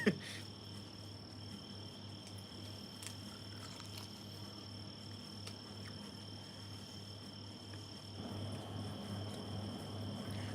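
Steady outdoor insect chorus of cicadas in Mississippi, a continuous high buzzing drone with faint scattered clicks, moderately distant, with a low hum underneath and no speech.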